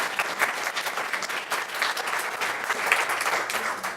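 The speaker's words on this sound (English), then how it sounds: "A round of applause for our presenters and our panelists." Steady applause from an audience at an engineering panel event, dense even clapping filling the space for the whole stretch without a break.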